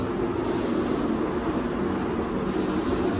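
A spray gun hisses steadily and loudly while applying Spectral 355 high build primer in a paint booth, a continuous close airy spray without a break.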